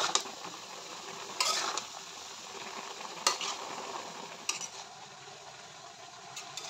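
Bitter gourd frying in a pan sizzles softly and steadily, and a spatula now and then scrapes or clacks against the pan in short, sharper bursts. The sound is close but fairly quiet, and no one speaks.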